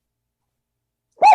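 A single dog bark, sudden and fairly loud after a long stretch of silence, close by and alone.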